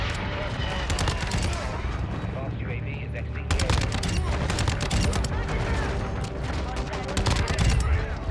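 Dense rapid gunfire from an ISO Hemlock rifle in Call of Duty MW2, continuous bursts and overlapping shots with a voice talking over the action.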